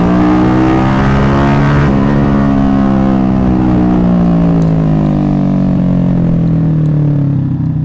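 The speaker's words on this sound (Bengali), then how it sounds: "আর যদি বাইকটা টান দিয়ে দেখাই" A motorcycle fitted with a Pro Liner exhaust revs loud and close, a deep rumbling engine tone climbing and then sliding slowly downward as the throttle eases, continuous throughout.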